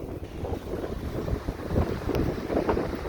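Gusty wind buffets the microphone at Wrightsville Beach after a storm, loud rumbling bursts rising and falling continuously with a low ocean wash underneath.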